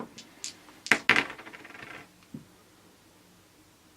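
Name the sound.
rolling four dice in a board game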